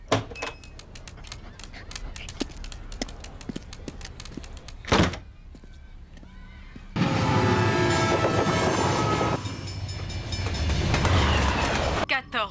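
Rhythmic clickety-clack of train wheels over rail joints, followed by a louder, rushing rumble of rolling cars passing close by.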